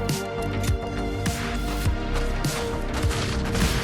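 Enemy gunfire in the video game Fortnite, a series of sharp shots at a steady rhythm, roughly every half second, over a layer of tonal game music or ambience.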